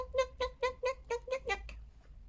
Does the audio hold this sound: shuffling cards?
no